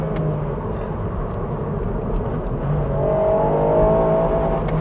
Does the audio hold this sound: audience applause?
no